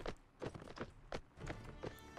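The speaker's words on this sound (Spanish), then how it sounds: "ahora tenemos un caballo que, que parte la pana" Horse hooves clip-clop at a steady galloping rhythm in the video game Mount & Blade: Warband, a run of distinct quiet thuds with no talk over them.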